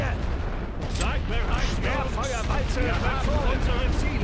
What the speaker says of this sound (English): Need that machine gun gone.